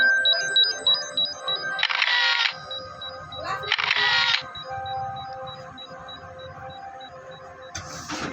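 Camera shutter clicks as photos are snapped, two distinct bursts of mechanical clatter a couple of seconds apart with a third starting at the end, over quiet electronic beeps and tones.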